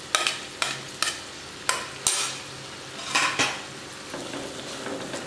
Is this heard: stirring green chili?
yes